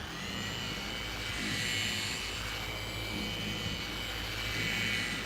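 An EVO 21 dual action polisher running steadily on a car's paint, a constant whirring hum with gentle swells in loudness as it passes over the panel, no speech.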